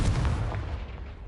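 Confringo blasting spell in the Hogwarts Legacy video game, a single loud, close explosive boom with a deep rumbling tail that fades over a second, no voices.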